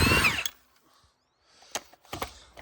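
A power tool spins rusted lug nuts off an old wheel in short, sharp bursts: one loud opening burst, a quiet pause, then several quick close rattling bursts in succession.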